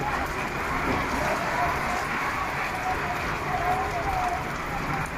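Heavy rain pours down in Dhaka, a dense, even hiss of drops drumming on surfaces nearby, steady for the whole stretch.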